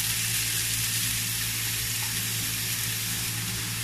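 Bacon sizzles in a pan, a dense, even, loud hiss that holds unbroken and close throughout, with no talking over it.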